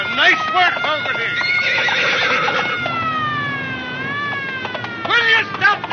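A horse whinnies in several rising and falling calls while hooves clip-clop in quick bursts at the start and end, with voices speaking nearby.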